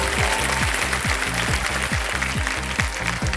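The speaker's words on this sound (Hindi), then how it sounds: "तालियां बज जाए इनके लिए।" Studio audience applause on the Kaun Banega Crorepati quiz show after a correct answer: a steady, loud wash of clapping that lasts throughout, with a rhythmic musical beat underneath.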